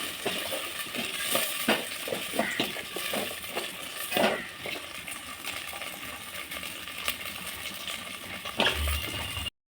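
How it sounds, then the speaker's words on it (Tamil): Onions sautéing for a cowpea curry sizzle softly in a pan under repeated scraping and clinking of a spatula against metal, a close, busy texture with irregular taps throughout. "நல்லா வதங்கட்டும் வெங்காயம்"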